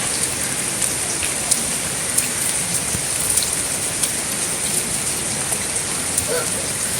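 Heavy afternoon rain pours steadily outdoors, a dense close hiss of drops hitting surfaces with occasional louder splats, continuous and unbroken with no voices.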